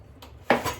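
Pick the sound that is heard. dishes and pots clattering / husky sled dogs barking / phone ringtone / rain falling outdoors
dishes and pots clattering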